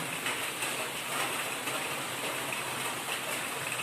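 Steady heavy rain pours down in a constant dense hiss, loud and unbroken, with no voices.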